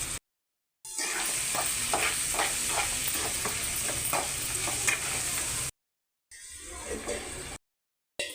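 Mutton curry cooking in a pan with coarse salt added makes a loud, steady sizzle and bubbling, with repeated stirring scrapes. The sound stops abruptly twice and resumes in a short final burst.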